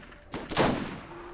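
A single shotgun blast fires in the co-op shooter game Borderlands, a sharp burst that decays over about a second, fairly close and with no talk over it.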